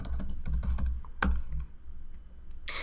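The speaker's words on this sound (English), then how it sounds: "then I can type in my reply." Someone types a reply on a computer keyboard: a quick, close run of key clicks with brief pauses and one louder keystroke, with no voices.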